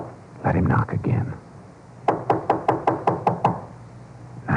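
A run of about eight sharp knocks on a door, evenly spaced and fairly close, comes after a stretch of muffled talk, in a tense crime-drama setting.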